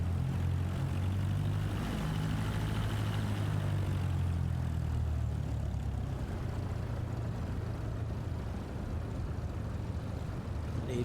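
A propeller aircraft engine in Flight Simulator 2024 drones steadily as power is applied for takeoff, a continuous low hum with a faint higher whine, even and unbroken throughout.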